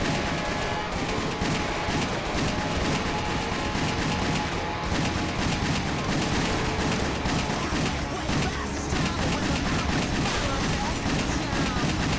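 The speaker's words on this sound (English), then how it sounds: "I'm shooting them like 5 times or something." Continuous video-game gunfire from a shooter, rapid overlapping shots fired at enemies and their bikes, loud and dense throughout with no gaps.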